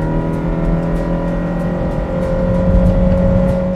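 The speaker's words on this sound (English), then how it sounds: "the acceleration and the noise that comes from the engine" Engine of a Honda Insight hybrid under hard acceleration, a steady, loud droning whine with sustained tones held throughout, close and continuous with no talk.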